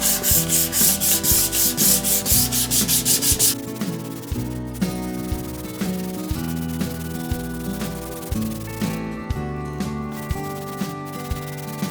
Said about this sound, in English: So what I'm starting with here is just 600 grit, like wet sanding paper.